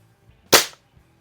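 A single sharp shot from a Crosman Summit air rifle cracks out close by, a short burst in otherwise near silence.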